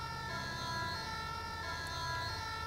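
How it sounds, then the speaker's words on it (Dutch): An ambulance siren wails continuously and loudly in GTA V, a steady electronic tone held close over a low vehicle rumble, with no talk. "En nu elke keer als de sirenes aanzet"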